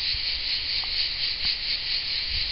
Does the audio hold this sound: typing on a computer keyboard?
no